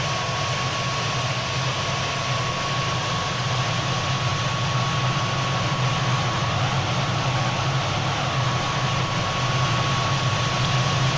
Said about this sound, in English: then you can hear the engine spooling up and the revs going up